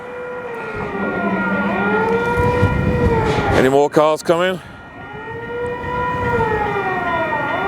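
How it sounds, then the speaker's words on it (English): Warning siren at a bascule bridge before it opens, loud and near, wailing in long rising and falling sweeps with a rapid warbling burst in the middle, while someone speaks briefly over it. "There's the alarm."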